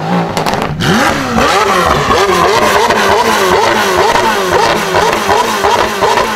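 McLaren 720S supercar exhaust, loud and close, with a brief gap before a wailing rev that climbs and falls in repeated surges for several seconds.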